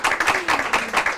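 Applause from an audience at a Findeter news event, a clear burst of hand claps in irregular pulses lasting about a second, no voices over it.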